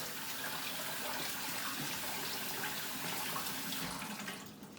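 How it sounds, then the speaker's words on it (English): Diced potatoes are rinsed under a running tap, a steady faint hiss of flowing water that tapers off near the end, with no talking. "I like to rinse them off first"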